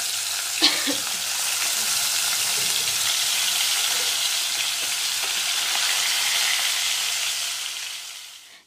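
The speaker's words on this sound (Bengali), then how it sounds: "আর এখানে মাছগুলো ভেজে নিচ্ছি" Fish frying in hot oil gives a steady, fairly loud sizzle with a brief clatter near the start, holding evenly before fading out at the end.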